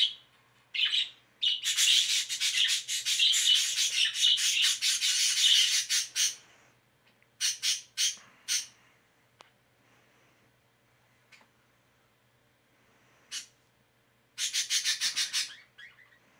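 Birds in the video game Isekai: Slow Life squawk and chirp in loud, busy bursts, a long stretch of bright calls followed by shorter clusters and a final burst after a quiet gap, with no talking.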